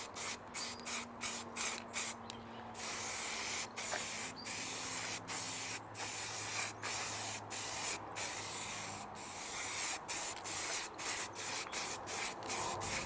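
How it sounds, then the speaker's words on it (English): Short repeated bursts of spray paint hissing close by as a Lexus IS200 bumper is painted, pausing briefly between passes in a steady rhythm, with faint rubbing underneath. "As you're spraying, give it a little shake once in a while."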